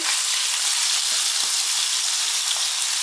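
Butter melting and sizzling in a pan while preparing chicken malaikari, a loud, constant hissing crackle with fine popping, steady throughout with no voices.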